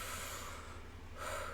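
A person mimics drawing in from a vape, making a long, breathy, hissing inhale with no vapor device, up close and faint, swelling slightly toward the end.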